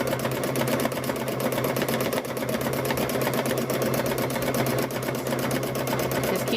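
Sewing machine stitching fabric in free-motion quilting with the feed dogs not pulling, a fast, even mechanical chatter that runs continuously and close up, with no talking over it.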